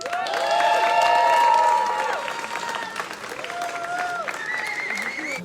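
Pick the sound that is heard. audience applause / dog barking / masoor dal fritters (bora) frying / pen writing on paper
audience applause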